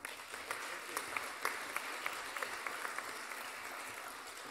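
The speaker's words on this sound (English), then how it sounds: "thank you very much for that polite round of applause" A modest round of applause, thin and brief-sounding, with scattered individual claps standing out over a soft background murmur.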